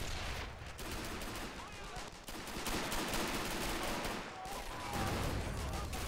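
Rifle grenades and other gunfire crack and thud repeatedly throughout a battle in the World War II strategy game Men of War: Assault Squad 2, with explosions layered under constant dense combat noise.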